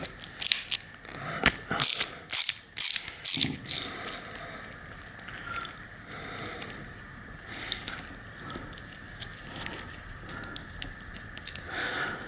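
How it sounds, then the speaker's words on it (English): Ratchet wrench clicking as it loosens a 5mm Allen bolt on an Avid BB7 bike disc brake caliper, a close series of sharp ratcheting bursts early on, then quieter faint handling sounds. "It's a 5mm Allen bolt, so get like a ratchet wrench here and remove this bolt here."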